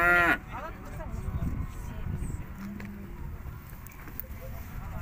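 A cow or bull moos once loudly at the very start, followed by a low murmur of people and animals at a rural cattle market, with a faint engine hum beneath.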